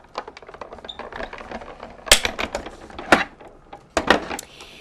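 A petite oval Spellbinders Nestabilities die is run through a die-cutting machine for paper crafting, making quiet, close, rapid clicking and ratcheting broken by a few louder clunks.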